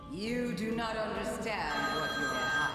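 A telephone rings with a warbling, tonal ringtone that shifts in pitch, heard close and steady, with a voice speaking over it.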